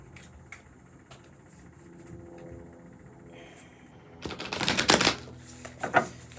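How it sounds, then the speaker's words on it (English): A deck of cards is shuffled during a dragon-themed card reading, a crisp burst of riffling and fluttering after quieter handling and rustling, close and fairly loud. "I always begin by shuffling the cards to mix them up."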